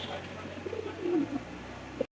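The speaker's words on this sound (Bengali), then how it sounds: "আমার দেখতে পাচ্ছি এখানে আরো একটা কিন্তু রেসার কবুতর" A silver racer pigeon with white eyes coos in a short, soft run of low notes, close by amid quiet background noise in a pigeon loft.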